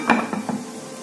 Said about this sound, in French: Je mets donc du poivron que je vais couper juste grossièrement ici et faire cuire avec du riz.